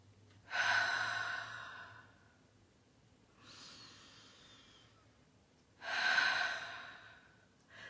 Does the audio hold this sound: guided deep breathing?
yes